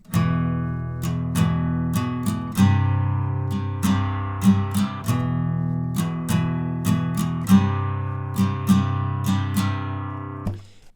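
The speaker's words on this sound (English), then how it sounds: "You play that once for each chord, and the chorus would just sound like this." Guitar strumming a chorus in standard tuning, slow down-up strums repeating once per chord, close and alone with no voices.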